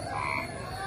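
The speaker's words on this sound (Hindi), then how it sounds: "ये मेंढक की आवाज सुनकर वहां चली गई थी" Frog croaking near a hotel, a short croak heard up close over a background hum, with no voices.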